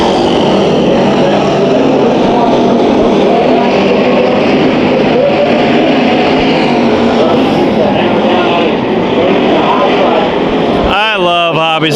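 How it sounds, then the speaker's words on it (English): Hobby Stock race cars roar away together at the green flag of a heat race at Bakersfield Speedway, a loud, dense wall of engine noise sustained throughout, with a voice talking over the field. "Hobby Stocks heat race number 1. Green flag, and I thought we were going to the wall on this one."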